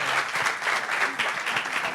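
A conference audience in a big tent claps steadily, producing dense, fairly close applause throughout with no talking.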